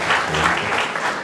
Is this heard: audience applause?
yes